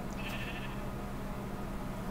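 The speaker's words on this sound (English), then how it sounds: "I heard a sheep. I just heard a sheep." Sheep bleating in a jungle island survival video game, a short bleat against a steady low background hum, fairly faint and with no talking.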